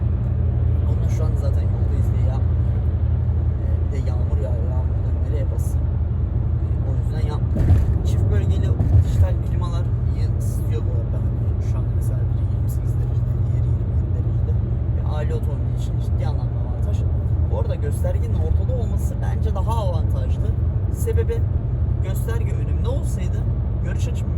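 Citroen C4 Grand Picasso 1.6 diesel driven at high revs to clear a clogged particulate filter, a steady loud engine drone and road roar heard from inside the cabin throughout.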